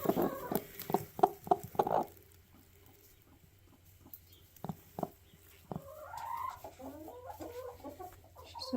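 Hen clucking from a nest box in a henhouse. A quick run of soft clucks comes first, then scattered single clucks and low murmuring calls at close range.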